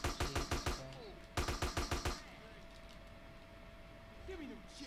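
Rapid bursts of gunfire in GTA San Andreas, two loud clusters of quick shots in the first two seconds, followed by quieter ambient game noise with a faint voice near the end.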